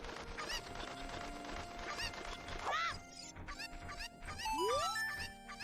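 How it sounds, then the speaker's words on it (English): Cucco chickens from the Zelda: Ocarina of Time video game, heard as busy synthesized clucks and squawks over game music with a rising chirpy tone near the end, fairly loud and continuous. "Yep, chicken minigame."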